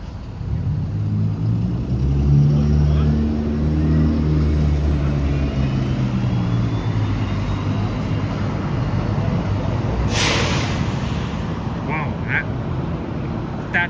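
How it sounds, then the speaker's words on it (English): Air brakes on a passing vehicle release a sudden broadband puff of air on Yonge Street at night, cutting through steady low traffic rumble from a passing vehicle, followed by a couple of smaller hisses. "That puffing brake really startled me."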